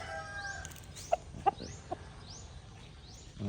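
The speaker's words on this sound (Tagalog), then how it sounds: "Dako rin ng manok." A few short, sharp clucks from a chicken, spaced apart over a quiet background with faint bird calls.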